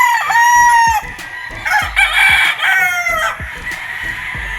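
A red Kelso stag, a young gamefowl rooster, crows close by in a long cock-a-doodle-doo followed by a second crow, with clucking and other fowl noises in the background.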